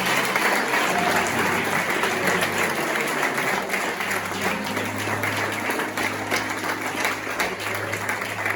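A church congregation applauds together in a steady, dense wash of clapping that fills the room, with a low hum and some faint voices underneath.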